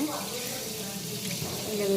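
Water runs steadily from a tap while a baby is being bathed, a continuous close gush with an even, unbroken rush throughout.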